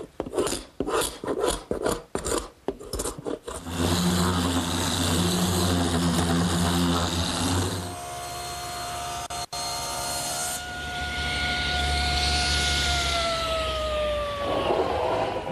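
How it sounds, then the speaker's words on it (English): Glued-up wood panels being worked at a workshop bench: rhythmic rasping scrapes of excess glue at first, then a loud continuous power sander grinding steadily, its whine shifting in pitch, with no talking. "scrape off the excess glue,"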